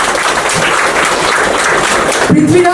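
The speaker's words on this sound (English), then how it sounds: "Do give him a round of applause." Audience applause for an artist at a book launch event, a dense, steady wash of clapping from a crowd lasting a few seconds before a voice begins speaking.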